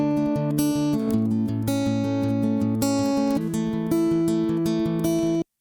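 Gritty finger-picked guitars panned hard left and right, with steady repeated plucked notes over sustained chords, loud and close, ending abruptly.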